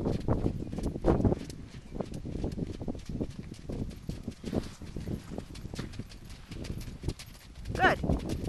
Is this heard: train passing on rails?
no